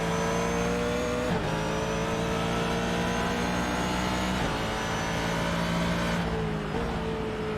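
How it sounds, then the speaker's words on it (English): A Ford GT race car engine in the iRacing game roars steadily at high revs, with a few brief dips as it shifts gears, loud and close throughout. "get ready for the sound of that Ford engine"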